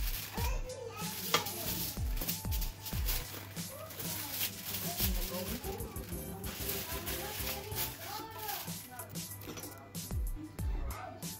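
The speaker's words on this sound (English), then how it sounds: "we start the fryer" Food frying and sizzling at a home braai, with stirring and clinking of pots under steady background chatter and children's voices.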